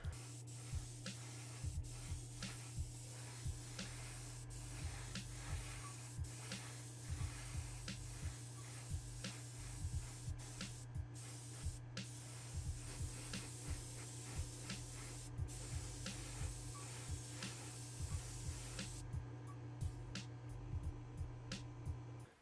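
Airbrush spraying liquid chrome paint onto a Hot Wheels car body, a steady close hiss held almost continuously with brief pauses, and a low motor hum from the compressor running underneath throughout.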